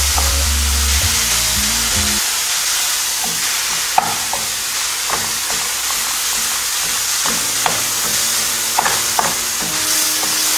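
Ground turkey frying in a pan with little oil while a utensil stirs and scrapes it, a loud continuous sizzle broken by repeated clinks and scrapes.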